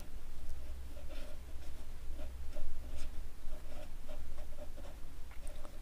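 Chalk or marker scratching and tapping across a classroom board while a polynomial comparison is written out, a steady run of small scrapes and ticks over low room hum, with no talking.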